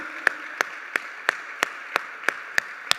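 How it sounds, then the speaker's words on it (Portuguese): Sharp handclaps ring out in a church service in a steady, even rhythm, about three per second, with nothing else heard between them. "Vamos dar uma salva de palmas para Jesus?"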